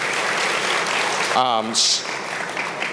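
Audience applause at a presidential candidate campaign event for Elizabeth Warren, a continuous broad wash of clapping heard from a distance, with a short spoken word from a nearby voice cutting through partway.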